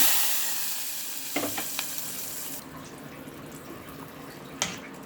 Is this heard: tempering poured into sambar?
yes